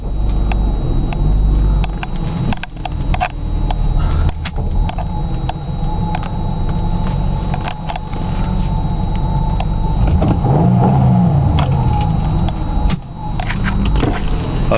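A Ford Mustang out on a morning drive carries a continuous engine and exhaust drone, heard from inside the moving car, with road noise and occasional knocks and rattles throughout and no one talking.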